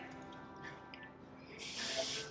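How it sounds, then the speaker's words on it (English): A short, steady hiss of an aerosol hairspray can bursts on close by after a quiet moment, sustained for under a second. "I get my hairspray"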